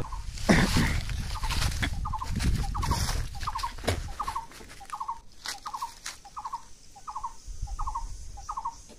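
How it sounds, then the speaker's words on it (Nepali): A rooster-like bird repeats a short rhythmic call about a dozen times at steady intervals, with rustling and handling noises early on. "भाले हो"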